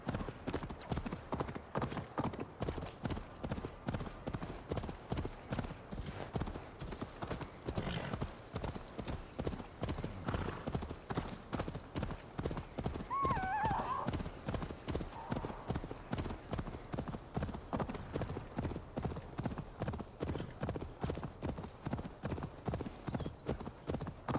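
Rapid, steady hoofbeats of a galloping horse in the video game Assassin's Creed Valhalla fill the whole stretch, with a brief whinny partway through, all at an even, loud level.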